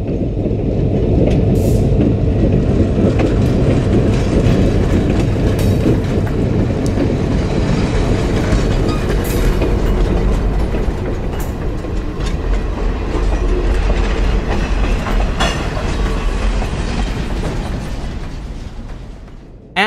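A Madison Railroad mixed freight train in Indiana rolls past up close, a loud continuous rumble of wheels and cars with clickety-clack and metallic bangs, steady for the whole stretch before easing slightly at the end.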